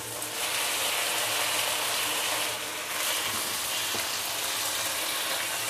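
Mushrooms and translucent onion sauté in a hot pan, a steady, close, loud sizzle that hisses continuously with a soft stirring scrape partway through.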